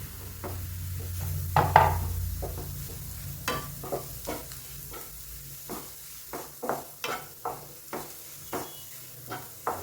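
Crushed garlic, ginger and green chili sizzle in a hot pan as breakfast is cooked, with a soft frying hiss under a series of regular spoon-stirring scrapes and taps.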